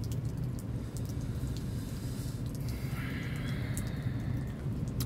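Steady rain falls in a dense, even hiss, close and unbroken throughout, with faint higher spatters now and then and no voices.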